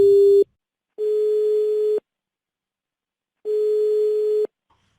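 Telephone line tones sound while a call is being dialed: a short beep followed by two longer, evenly spaced steady electronic tones separated by silence, clear and alone with no talking.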